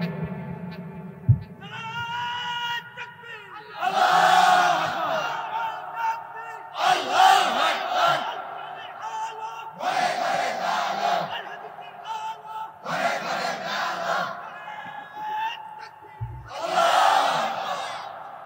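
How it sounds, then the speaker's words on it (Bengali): Large crowd at a Shab-e-Qadr religious sermon in Comilla shouting takbir in loud, repeated bursts, several surging roars spaced a few seconds apart with a preacher's voice speaking between them. "তাকবীর দিবেন একবারে সর্বোচ্চ স্কেল দিয়ে"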